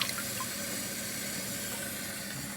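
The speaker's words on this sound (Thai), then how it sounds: "ปิดน้ำก่อนนะคะ มันเสียงดังเนาะ" Tap water runs steadily into a sink while golden oyster mushrooms are rinsed, a soft even rushing stream heard close and alone without a break.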